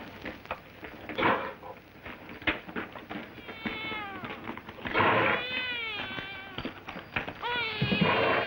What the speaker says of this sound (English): What's all that screeching going on in there? Sounds like a sick cat.